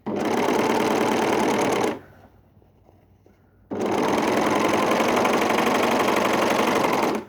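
A sewing machine stitches trouser fabric along a leg seam in two loud, close, steady runs of rapid mechanical chatter, separated by a short quiet pause.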